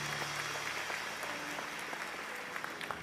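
A church congregation claps steadily for about three seconds, a dense, even wash of applause filling the space with no voices standing out.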